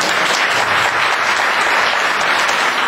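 Audience applause fills a community meeting held in a school, a dense, steady clapping from a crowd that stays loud and even throughout without letting up.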